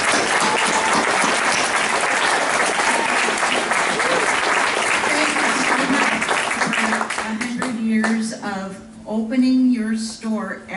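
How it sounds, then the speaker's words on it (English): A room full of people at a chamber of commerce chocolate event applauds a local business for its century of service, loud sustained clapping that thins out as a voice begins talking over it. "So a round of applause for FARS."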